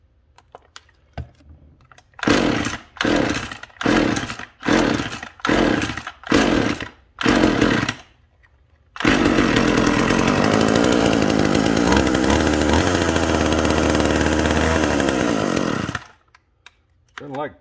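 A McCulloch chainsaw is pull-started with seven sharp rasping cranks in a row, then the engine catches and runs loud and steady for several seconds before cutting out. There is no speech.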